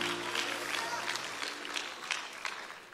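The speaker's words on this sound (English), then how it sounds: "I want you to clap your hands" A church congregation claps its hands during a sermon service by Pastor Brian Kinsey, with dense, rhythmic clapping and scattered shouts, fairly close and sustained, thinning slightly toward the end.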